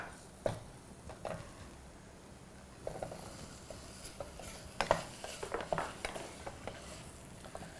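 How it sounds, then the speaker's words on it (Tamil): Potatoes are stirred into a frying masala gravy of onion, tomato, ginger and garlic in a pan, giving quiet scraping stirs and soft sizzling with scattered clatter, no talk. "ஸோ இப்போ நான் அடுத்தது பொட்டேட்டோ ஆட் பண்ணுறேன்."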